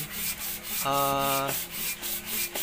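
Sandpaper rubbing a radiator cap from a Honda Vario Techno scooter, close up, in short repeated strokes with a brief steadier tonal scrape in the middle and no talking.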